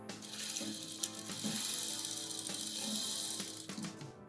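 A sewing machine stitches trouser fabric in a fairly faint, steady whirring drone with light rhythmic clicking of the mechanism, and no one speaks.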